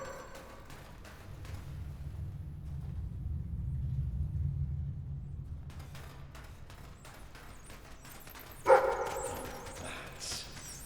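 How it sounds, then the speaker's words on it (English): Dog barking in the video game Fable 3, a short sharp burst late in the stretch, heard over low rumbling ambience with no talk. "Sounds like the dog's found something."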